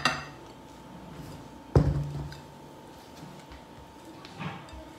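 Almond flour being mixed into a butter-sugar mixture in a bowl, with a few sharp clinks and knocks of a utensil against the bowl amid quiet scraping, close and sparse.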